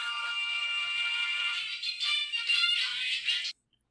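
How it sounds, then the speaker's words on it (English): A phone ringtone plays loud and steady, a bright electronic melody lasting about three and a half seconds before cutting off abruptly into silence. "You probably heard the phone go off."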